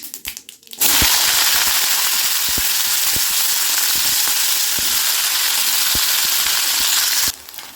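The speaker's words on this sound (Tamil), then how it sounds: "நம்மளோட கடுகு நல்லா பொரிஞ்சிருச்சு இப்போ நம்ம கத்திரிக்காயை சேர்த்துக்கலாம்" Brinjal (eggplant) hits hot oil with popped mustard seeds and erupts into a loud, dense sizzle that holds steady for several seconds, scattered sharp pops, then cuts off.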